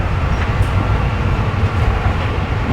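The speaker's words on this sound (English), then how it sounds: "But in this case, you have more noise from the train, so it's a trade-off." Elevated light rail train passing on a raised track in Hawaii, a loud, continuous low rumble and roar of the cars rolling by close at hand, steady throughout.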